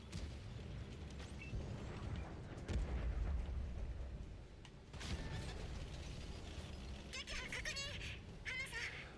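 Heavy tank cannon shots in World of Tanks console battle, a couple of deep booming blasts with rumbling low end, spaced several seconds apart over mechanical engine hum and faint talk.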